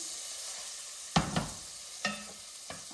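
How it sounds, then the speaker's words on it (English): Butter sizzling in a pan on low heat, a soft steady crackle with a few sharp clinks and taps of utensils, and no voices. "I'm going to put the butter in here. And put it on low."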